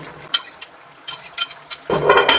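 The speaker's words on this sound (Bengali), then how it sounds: "এবার এর মধ্যে এই ভেজে রাখা মাছগুলো দিয়ে দিচ্ছি" Fried puti fish going into a pan of bubbling gravy, with a few sharp clatters and scrapes that give way to a louder burst of sizzling and bubbling near the end, close and without talk.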